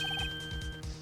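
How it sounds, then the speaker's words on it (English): A short electronic phone ringtone from the Phoenix Wright video game, a few quick bright tonal chirps over a low steady background hum, lasting about a second. "I heard a phone ring just now. One of those newfangled ringtones."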